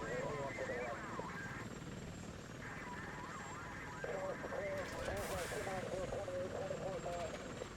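Helicopter flying in the Worlds at War VR video game, a steady rotor and engine drone heard from inside the cockpit, mixed with gunfire-like bursts while someone talks over it.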